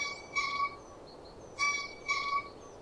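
Green bee-eater calling in three short, bright trilled bursts spaced apart, clear and moderately faint over a quiet background.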